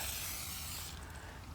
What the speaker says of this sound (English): So all you need to do is spray